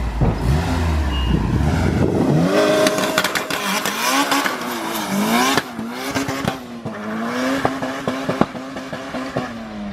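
A K-series engine in an all-motor 2.5-litre hatchback is run on a dyno, rising in loud sweeping revs that climb, drop with gear changes and climb again. The sound is close and continuous.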